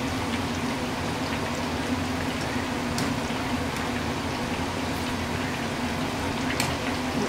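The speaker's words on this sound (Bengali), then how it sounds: "প্রায় ভাজা হালকাই ভাজা করব, বেশি করে ভাজা করব না।" Mushrooms frying lightly in a pan give a soft, even sizzle that runs steadily throughout over a low background hum. No speech is heard.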